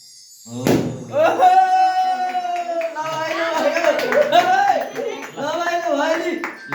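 At a home birthday party, people clap in scattered bursts after the cake is cut, with sharp hand claps mixed under loud group singing and voices.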